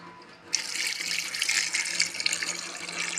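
Water streams into a pot of fresh meat curry for aloo matar gosht, starting abruptly after a short quiet moment and then running steadily and close, a continuous splashing pour with no talk.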